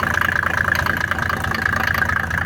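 A motor pump engine on a water pump station for irrigation idles steadily up close, a rapid even chugging with a constant mechanical hum.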